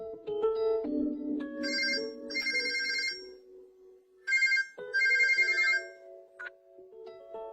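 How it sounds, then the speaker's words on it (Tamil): A phone ringtone plays alone in two melodic bursts, a tonal electronic pattern with bright chiming notes between them, fairly close and clear, with no talking over it. "phone phone"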